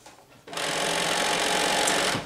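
A sewing machine stitches fabric along a 5/8 inch seam line, running steadily and fairly close for nearly two seconds before stopping, with no voices over it.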